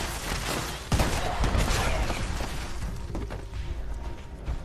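Defensive turrets in Fallout 76 fire in rapid bursts of loud, close gunfire, with a sharp onset about a second in and continued popping shots throughout.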